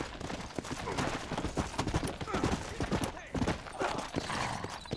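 Horse hooves clip-clop in a steady, busy rhythm, fairly close and loud, over a dense background wash, in the video game Red Dead Redemption.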